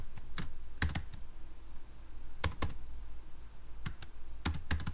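Someone types on a computer keyboard in short clusters of sharp clicks separated by pauses, close but fairly quiet over a low room hum.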